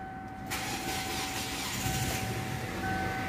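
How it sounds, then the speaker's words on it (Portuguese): A Kia car with a 2.0 16-valve engine that runs poorly after a cylinder-head rebuild cranks and fires up after half a second of quiet, then settles into a steady, fairly quiet idle over a constant tonal whine. "Então tá aqui o carro, vou funcionar ele."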